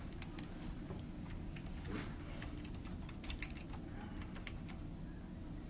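Quick, light clicks of typing on a computer keyboard, entering a search for stock images, faint and steady against a constant background hum, with no one speaking.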